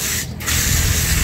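Water sprays from a garden hose onto potato plants in a backyard garden, a loud, close, continuous hiss that cuts out for a moment and then resumes.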